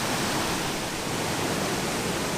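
A double tier waterfall framed by rocks on the Isle of Skye roars in a dense, steady broadband rush, loud and continuous with no other sounds.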